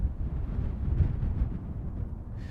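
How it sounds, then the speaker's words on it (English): Steady wind blows outdoors, a low continuous rumbling roar with gusty swells that buffets the microphone throughout. "It's really windy right now."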